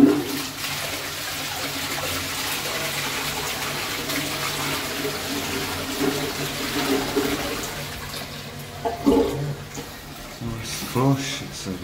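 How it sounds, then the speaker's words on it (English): A Twyford Classic toilet with a replacement pan, in a pub in Crewe, flushes with a loud, steady rush of water for about eight seconds, then tapers into uneven gurgles and trickles. "Flush"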